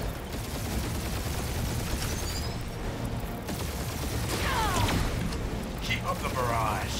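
A dense, continuous barrage of sci-fi gunfire and mechanical blasts fills a Guardians of the Galaxy game battle, with voices speaking over the loud, unbroken din of combat.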